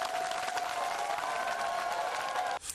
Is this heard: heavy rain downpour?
no